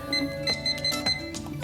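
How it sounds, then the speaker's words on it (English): Air fryer control panel being set for a 4-minute timer, giving several short, evenly spaced electronic beeps in a quiet kitchen, with light handling sounds between them. "I'm gonna set my 4-minute timer"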